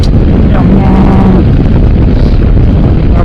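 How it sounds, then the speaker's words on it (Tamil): Strong wind gusting across an exposed mountain viewpoint near Kodaikanal in the Western Ghats, a loud continuous roar buffeting the microphone with no break, while a person talks faintly underneath. "நம்மளுக்கு வந்து காற்று ஃப்ளோ அதிகமாக இருக்குது"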